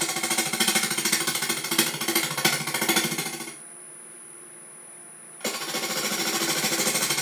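Wood lathe turning a 12 inch fruit bowl with a wobble at the outer edge, a loud rapid chattering scrape that runs for about three and a half seconds, drops out for two, then resumes.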